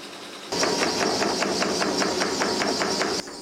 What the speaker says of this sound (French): La régularité du marteau de la formeuse aplanit les bords de la pièce, sans marquer le métal